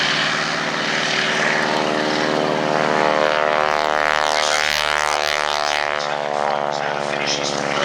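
Vintage propeller aircraft racing at the Shuttleworth race day airshow, a loud, steady droning engine roar that holds throughout with a slight swell and fade as a plane passes.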